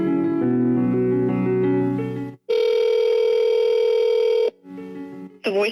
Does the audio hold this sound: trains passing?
no